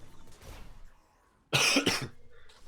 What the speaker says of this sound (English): Sorry, I've had a cough all day.